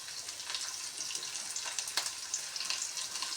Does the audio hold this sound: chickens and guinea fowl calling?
no